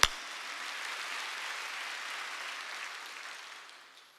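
Church congregation clapping together at a Korean Wednesday worship service, a dense steady burst of applause that starts abruptly, holds for a few seconds and fades toward the end, with no talking over it.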